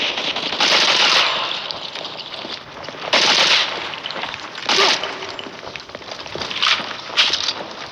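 Rapid bursts of automatic gunfire from the mobile shooter Modern Combat 4: Zero Hour, several sharp crackling volleys spread across the stretch over a constant hissy background of battle noise.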